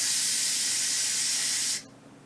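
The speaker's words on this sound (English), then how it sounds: "the way you depressurize it is by holding that thing. And to stop the steam and water from going everywhere" An Instant Pot pressure cooker vents steam with a loud, steady hiss for nearly two seconds, then cuts off abruptly to a quiet background.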